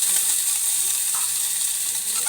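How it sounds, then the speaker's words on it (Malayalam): Mustard seeds spluttering and sizzling in hot cooking oil in a pan, a steady bright crackle with small pops, close and fairly quiet, no talk. "അപ്പോൾ നമ്മുടെ കടുക് പൊട്ടി വരുന്നുണ്ട്"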